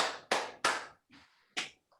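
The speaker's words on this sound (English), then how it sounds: "Clap 3 times." A group of kids clapping during a yoga class, with sharp, close hand claps in a short burst followed by a softer clap and faint trailing sounds.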